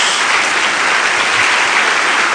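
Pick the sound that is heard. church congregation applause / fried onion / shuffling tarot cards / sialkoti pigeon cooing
church congregation applause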